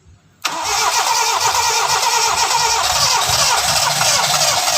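A Toyota Starlet car engine cranks and catches abruptly after a quiet moment, then runs loud and steady at a fast idle, close by.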